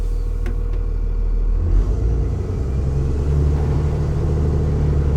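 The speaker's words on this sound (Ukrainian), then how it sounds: "Зараз ми поїдемо по барханам піщаним." A VARTA2 armored vehicle in four-wheel drive pulls away across sand dunes, its engine a steady, loud low rumble that shifts pitch slightly as it gets moving, heard alone without talk.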